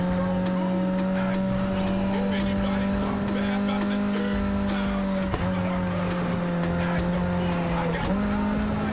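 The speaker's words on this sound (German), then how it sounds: "Ich liebe den Klang dieses Motors." In Need for Speed Heat, a car's engine holds a loud, steady droning note. The pitch dips sharply twice as the car drifts, with tire squeal and skidding over a continuous road rumble.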